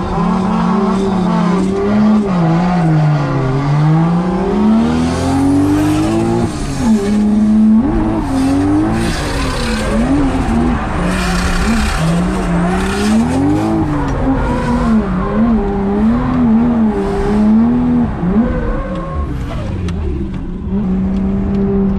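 Race car in a driving video game, with the engine howling and pitch rising and falling steadily throughout as the car slides and spins out, loud and continuous.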